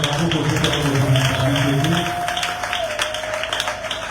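A church congregation applauds, a broad steady patter of clapping that continues throughout while a sustained tone and a voice sound over it at first.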